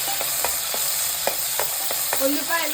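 Chopped onions and green chilies frying in hot oil for an Andhra fish curry, a steady sizzle broken by several sharp scrapes and clicks of a stirring utensil against the pan.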